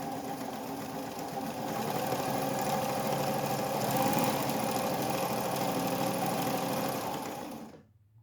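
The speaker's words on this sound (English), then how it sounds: "it will go nice and slow. It's such a nice quiet machine." Vintage White Model 764 "Fair Lady" sewing machine from the New York World's Fair era running slowly: a steady, close, quiet motor hum with a soft rhythmic needle clatter that runs for several seconds before stopping abruptly.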